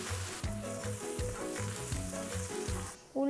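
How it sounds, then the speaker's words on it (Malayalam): Sliced onions with salt fry in hot coconut oil, a loud, close crackling sizzle with rhythmic pulses from the pan being stirred or shaken, ending in a sudden sharp burst. "എണ്ണ ചൂടാകുമ്പോൾ നമുക്കതിലേക്ക് സവാള ചേർത്ത് കൊടുക്കാം."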